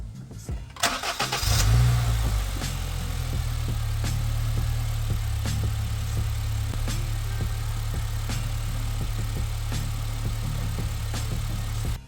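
A Honda Fit GD3 engine cranks and catches, then settles into a steady, loud idle that continues without pause.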